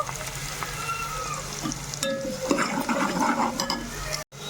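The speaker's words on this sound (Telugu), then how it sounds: "కొంచెం ఫ్రై చేసుకుందాం" Food sizzles in a hot pan and a utensil stirs it in close scraping strokes. The frying crackles steadily and rises briefly near the end, and a faint voice can be heard.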